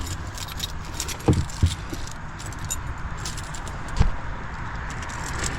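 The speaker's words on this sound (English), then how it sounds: "Let me get my keys." A set of keys jangling, a few short metallic clinks and rattles close by against a quiet outdoor background, with no talking.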